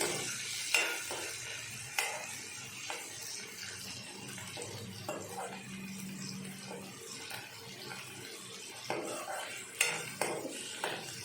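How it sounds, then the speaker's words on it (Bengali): Tilapia fish pieces fry in a pan of oil with chopped tomato and green chilli, giving a steady sizzle with clinks of a utensil stirring and scraping against the pan, up close and without talk. "মাছগুলো একটু ভাজা ভাজা করে নিয়ে"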